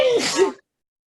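A single sharp sneeze, breathy and abrupt with a brief vocal edge, followed by silence.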